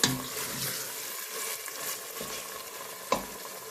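Minced meat sautés in a pan, a soft steady sizzle with occasional stirring scrapes and one sharp clink, close and fairly quiet with no talking.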